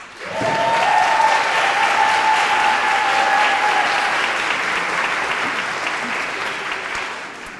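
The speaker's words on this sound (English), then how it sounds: "we'd like to give you a round of applause." Audience applause at a 2019 graduation ceremony for media studies, international affairs and TESOL graduates, a dense, steady clapping from a large crowd that starts abruptly and holds loud for several seconds before easing slightly.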